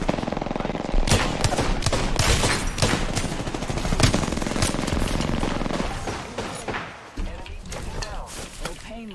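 Rapid automatic gunfire from Apex Legends rattles in dense, loud, close bursts for most of the stretch, then thins into scattered shots and fades near the end.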